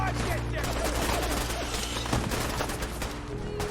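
Heavy gunfire crackles in a dense, continuous fusillade of overlapping shots and bursts during a foggy night battle in a video game, loud and without pause.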